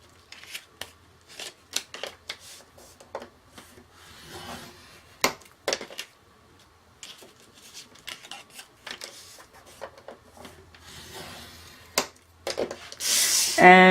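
Craft board pieces are scored with a tool in a series of short, sharp scrapes and taps, separated by quiet gaps, ending in a louder burst of rustling.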